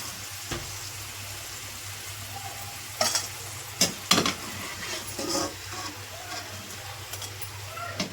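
Cabbage pakoda fry in oil over a medium flame with a steady crackling sizzle, plus a few sharp clinks and stirring knocks from a utensil against the pan.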